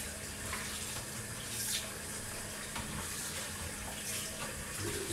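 Water from a kitchen tap runs steadily into a sink where food is being washed before going into a crockpot, a constant close gushing hiss with small splashes and no talking.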